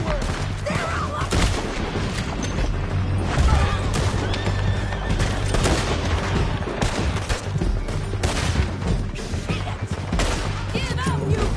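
Horses whinny and neigh over rapid bursts of gunfire in a Red Dead Redemption 2 shootout, a dense, loud battle mix with hooves and shots overlapping throughout, with shouting voices mixed in.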